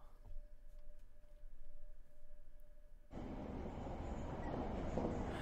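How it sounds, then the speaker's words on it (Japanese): A train in a horror video game, a steady low rumble that swells sharply partway through into a loud, broad roar of rolling carriages. "やだな、電車の音がするぞ。"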